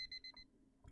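A smartphone alarm in a video game rings as a quick series of bright, evenly spaced electronic beeps, faint and alone, stopping after half a second before a soft thump.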